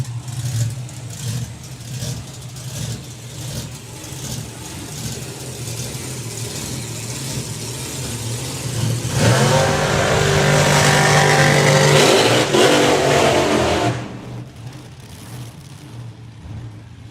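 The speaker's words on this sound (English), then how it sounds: "Two supercharged, methyl injected small blocks, one in an Anglia," Supercharged, methanol-injected small-block drag cars, an Anglia and a slingshot, at a nostalgia drag racing meet: a rumbling idle builds to a loud, harsh revving burst for several seconds, then cuts back sharply.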